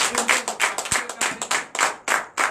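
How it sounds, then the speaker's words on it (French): A church congregation claps loudly and rhythmically during a night prayer service, sharp close hand claps in a steady beat with a few louder accents. "je vous demande d'applaudir très fort"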